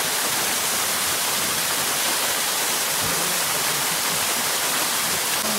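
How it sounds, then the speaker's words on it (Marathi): A waterfall roars as a dense, steady rush of falling water, loud and unbroken throughout. "तो धबधबा किती वाहत असेल."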